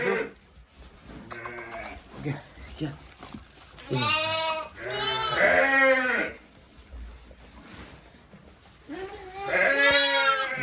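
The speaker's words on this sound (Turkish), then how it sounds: "Kuzular da geldi." Haymana Karasi lambs bleating at night in several wavering calls, fairly close, with a person talking between and over them.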